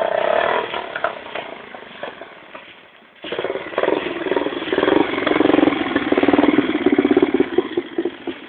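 A Honda XL 250 motorcycle engine idles close by and then revs up loudly, the engine note rising and staying strong in a steady, rough drone.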